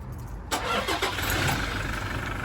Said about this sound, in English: And that will start the vehicle, leave it running for a quarter of an hour.